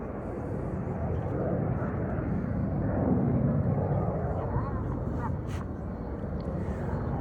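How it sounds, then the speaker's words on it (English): Red Arrows jets roar through a low diving display manoeuvre at the Cosford Airshow, a broad continuous rumble swelling and fading while an announcer talks over it. "Once again, the aircraft will dive down to only 100 feet."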